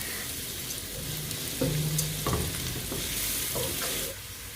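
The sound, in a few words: onions being sautéed and stirred in a pan until brown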